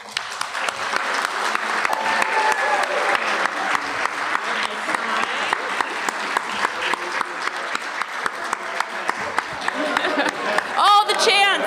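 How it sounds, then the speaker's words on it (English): Audience applause in a hotel ballroom at the Farpoint Star Trek convention, greeting a Lower Decks actor onto the panel stage. Dense, steady clapping from a large crowd runs for about twelve seconds, with a brief burst of cheering near the end. "please give a round of applause"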